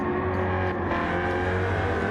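Steady, loud race car engine roar from a Corvette in a racing video game at Laguna Seca, holding a constant high drone with no pauses.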